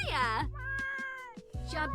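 A cat in The Sims 4 gives two drawn-out, tonal meows, one near the start and one at the end, with a brief sound between them.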